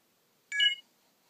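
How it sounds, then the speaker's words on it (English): An iPad connecting to a computer gives a single short electronic chime, bright and clean, against near-silence. "Sound you heard was when it connected with the computer."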